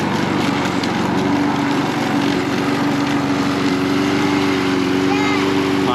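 A lawn mower drones steadily throughout at a loud, constant level, an unbroken engine hum with faint background noise and no clear talk.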